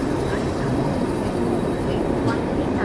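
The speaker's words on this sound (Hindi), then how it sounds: "हम लोग पहुँच चुके हैं बल्हार शाह रेलवे स्टेशन।" A train at Balharshah railway station gives off a loud, steady rumble and rolling clatter, with a brief brighter squeal near the end.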